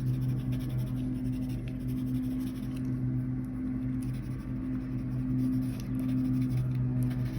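Pencil sketching on paper while drawing a sea turtle, a soft steady scratching of graphite strokes over a constant low hum, quiet and close.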